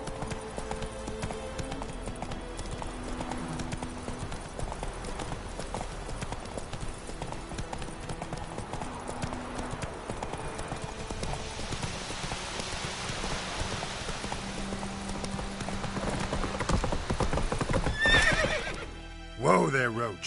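Hooves of the horse Roach clip-clop steadily in The Witcher 3 over a patter of rain, with a neigh rising near the end while a voice talks over the scene.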